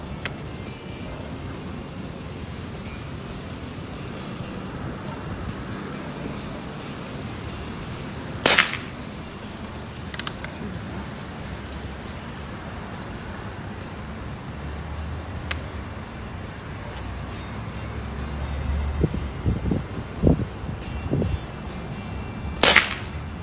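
Shots from a modified Crosman 2240 air pistol during indoor target practice: two distinct sharp cracks about fourteen seconds apart, with quiet low rumble and faint knocks between them.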